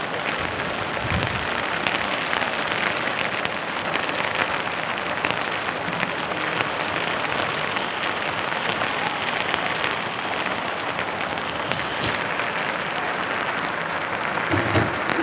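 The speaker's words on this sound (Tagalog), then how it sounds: "Pasok yung ulan pa." Heavy rain pours steadily, leaking into a house through a damaged roof, a dense continuous hiss with occasional louder drips and knocks, no talking.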